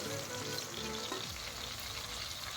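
Ingredients frying in hot oil in a pan as a curry is cooked, giving a steady soft sizzle close by with no talking.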